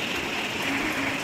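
Rain falls at a village food stall, a steady, dense hiss with no breaks, moderately loud and close.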